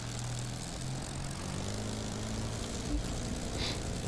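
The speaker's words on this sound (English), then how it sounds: "You can't really taxi the plane very well because it just wants to take off." A propeller airplane engine drones steadily while taxiing in the racing game The Crew 2, with a moderate, continuous hum and no voices.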